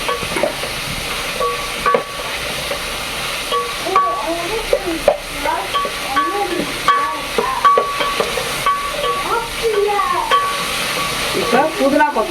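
Tomatoes and onions sizzle steadily in a pan while a spoon stirs and scrapes through them, producing repeated clinks and scraping strokes over a continuous frying hiss, close and moderately loud.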